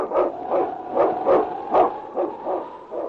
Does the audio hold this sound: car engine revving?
no